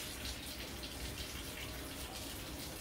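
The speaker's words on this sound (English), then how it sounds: "we've got a 2-quart pitcher here. We'll fill it up with hot water" Hot tap water pours steadily into a 2-quart pitcher for canning, a continuous hissing gush that stays even and fairly close throughout, with no voices.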